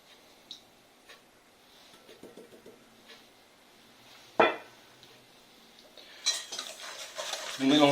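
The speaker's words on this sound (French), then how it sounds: "Nous mélangeons le tout pendant une dizaine de secondes pour les faire blanchir." Eggs are mixed with sugar and lemon zest for a lemon cake. A utensil taps and scrapes against a bowl in scattered light clinks, with one sharp knock and louder brisk whisking toward the end.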